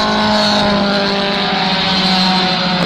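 Outlaw mini stock race cars roar steadily around a dirt track, a loud continuous engine drone from several cars running close together with no break.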